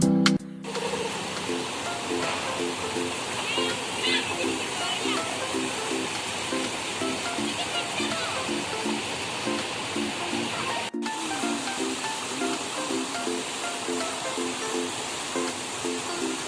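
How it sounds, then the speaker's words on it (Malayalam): A small waterfall on a river pours steadily as a broad, continuous rush of water throughout, with faint voices underneath. "അവിടെ ചെറിയൊരു വെള്ളച്ചാട്ടം പോലെ കണ്ടില്ലേ?"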